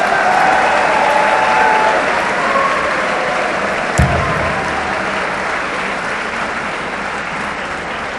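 A crowd at the 27th convocation of the University of Engineering and Technology in Lahore applauds in a sustained, dense wash of clapping that holds steady for the whole stretch.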